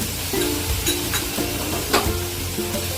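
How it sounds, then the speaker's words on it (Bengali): Onion paste sizzling in a pan with fried spices while cooking a zero-oil capsicum curry, a steady close hiss and crackle with occasional stirring scrapes. "মশলাগুলো ফ্রাই হয়ে গেছে, এবার দিয়ে দিলাম পেঁয়াজের পেস্ট।"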